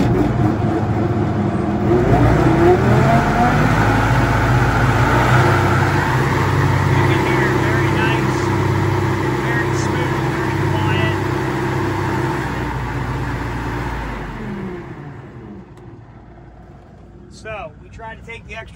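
A tractor runs steadily with a 2019 Land Pride FDR1672 72-inch finish mower driven through the 540 PTO, a loud continuous droning rumble with people talking over it before the machine winds down near the end.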